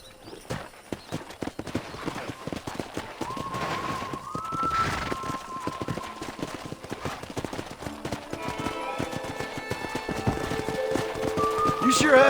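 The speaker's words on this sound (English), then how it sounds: "there's a pack of wild horses nearby" Wild horses gallop in Red Dead Redemption with steady, rhythmic clip-clop hoofbeats that run throughout, mixed with game ambience and a brief whinny-like tone, growing slightly louder toward the end.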